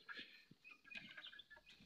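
Turkey calling, faint scattered gobbling and clucking notes in short bursts, distant and quiet.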